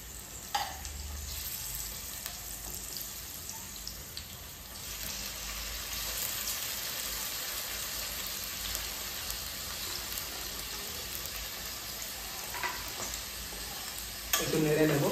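Food frying in a pan gives a soft, continuous sizzle throughout, with a couple of brief clatters at the start and a louder burst near the end, and no voices.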